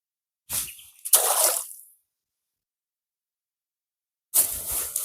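A yabby trap is turned and lifted out of a dam, sending two splashy bursts of dripping and pouring water, then a pause and a third burst of drips.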